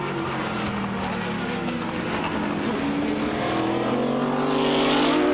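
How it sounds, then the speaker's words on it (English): Sports prototype race cars at Mondello Park accelerate through the mid part of the circuit, a dense, loud engine roar with several rising pitch lines that swells toward the end, with a commentator speaking over it. "the cars accelerate their way now through the mid part of the circuit once again"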